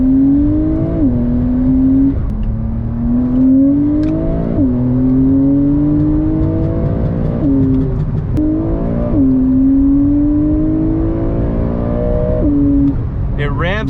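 A Porsche 992 911 Carrera S with PDK gearbox accelerates hard, its engine note rising through several quick upshifts in a repeating climb-and-drop pattern, heard from inside the car.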